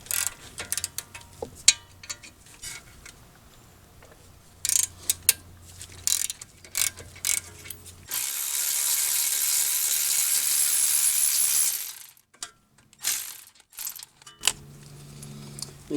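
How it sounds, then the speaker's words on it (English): Ratchet clicking while loosening the 18 mm caliper support bracket bolts on a 2014 Mini Cooper front brake, in short bursts of close mechanical ticks separated by pauses, with a steadier hiss in the middle stretch. "now we can also loosen and remove these caliper support bracket"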